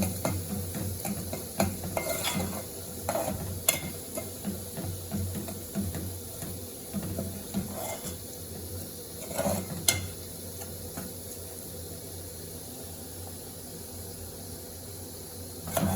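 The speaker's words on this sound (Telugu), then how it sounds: "మంచి స్మెల్తో పాటు ఇవి కూడా మనకి తొందరగా ఫ్రై అవుతాయి, పచ్చిమిర్చి ఇంకా ఆనియన్" Green chillies and onion fry in a pan for a chicken curry, a steady sizzle broken by frequent scraping stirs and an occasional clink of utensil on pan, with no talking.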